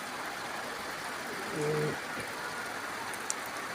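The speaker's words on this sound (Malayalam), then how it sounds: "കുഴപ്പമില്ലാത്ത മഴ എന്താ മഴ" Soft, steady rain patters throughout, with a brief low hum in the middle and no speech.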